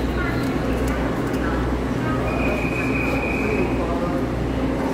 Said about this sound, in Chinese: 有列车准备通过。